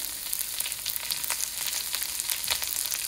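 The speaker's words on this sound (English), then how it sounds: "And that sizzling sound is exactly what you want when you stir fry." Carrots and onions sizzle in a hot stir-fry pan, with a steady close hiss and faint crackles and no talk.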